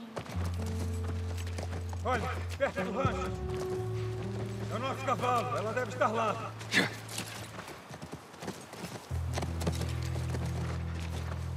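Horse hooves clip-clopping in The Last of Us Part 1, a steady walking rhythm close by, running under game music and voices speaking Portuguese.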